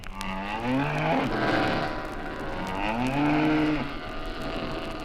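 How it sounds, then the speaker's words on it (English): Cattle moo twice in long, low calls, one after another, with a steady rumble of background noise underneath, on the open range during a cattle round-up by cowboys on motorcycles. "on the range, cowboys round up cattle on cycles"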